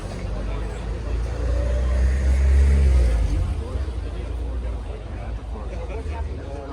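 A 1965 Ford Galaxie 427 racecar clone runs its big engine through mufflers, giving a deep, loud rumble that swells briefly and then settles back, with people talking over it.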